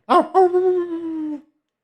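A dog lets out a short yelp and then a long, steady howl that holds its pitch for about a second before cutting off, loud and close with nothing else behind it.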